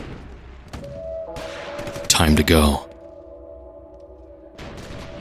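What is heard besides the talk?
gunshots of an advancing army company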